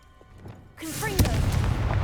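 Confringo blasting curse in Hogwarts Legacy: a sudden loud fiery explosion bursts in, followed by a sustained rumbling crackle, with a brief voice just before.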